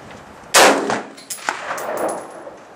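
A loud gunshot cracks out at a shooting range where a Colt AR15, a Kahr P380 and a Ruger Wiley Clapp revolver are being fired, followed by a couple of fainter sharp reports and clanks as the echo fades.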